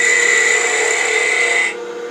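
A wood lathe turns while a skew chisel cuts a tiny 3/16-inch tenon, giving a loud, steady whining hiss that holds for under two seconds and then cuts off, leaving a lower hum.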